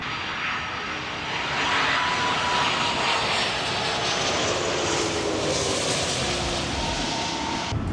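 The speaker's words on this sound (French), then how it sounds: "on était sur un avion de chez Hawaiian Airlines et c'était un 330-200" A Hawaiian Airlines Airbus A330-200 landing at Los Angeles, a steady broadband jet roar heard from the ground, loud and sustained with a slight swell as the aircraft passes.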